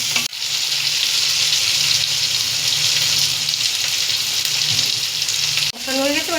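Nigella seeds, chopped onion and green chili fry in hot oil in a pan, a steady loud sizzle running almost unbroken as they are stirred, with a brief scrape near the end.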